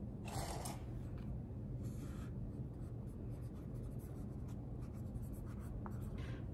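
A marker writes labels on food containers, giving faint, steady scratchy strokes over a low background hum, with short pauses between words and no talking.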